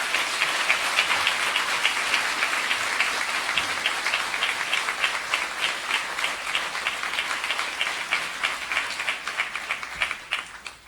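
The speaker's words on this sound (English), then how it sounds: "give her another round of applause" An audience applauds steadily in a hall at a university conversation event, a dense patter of many hands that holds for several seconds and then thins out toward the end.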